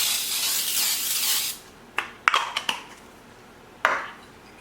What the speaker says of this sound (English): I'm just going to spray my baking sheet.